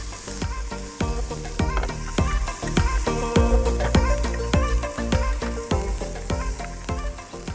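Pork belly frying in a pan with red onions and sweet corn, a loud continuous sizzle punctuated by rapid rhythmic scraping strokes of a utensil against the pan, close and without speech.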